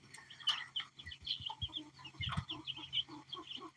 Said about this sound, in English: That's definitely a rooster.